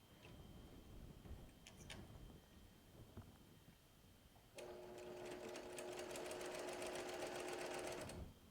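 A sewing machine stitching a log cabin quilt block, with a steady whirring run of about four seconds after a quiet stretch of handling and light clicks, close and fairly quiet.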